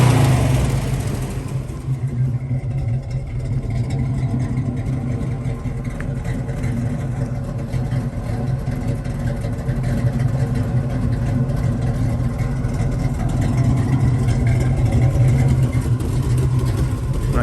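A 1979 Pontiac Trans Am engine runs steadily at close range with a continuous low throbbing rumble, with a slight noise from the manifold, and no speech.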